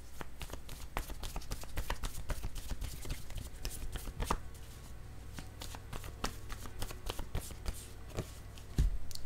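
A deck of playing cards being handled and a card drawn, giving quiet, crisp flicks and snaps in a quick irregular run, close up with no talk.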